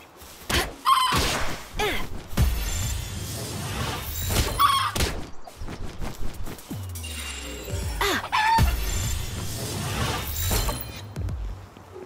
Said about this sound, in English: full of chickens around here